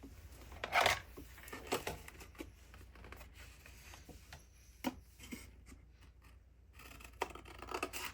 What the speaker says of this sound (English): So we're gonna cut out the rainbows.